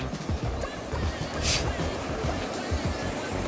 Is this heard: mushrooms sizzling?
no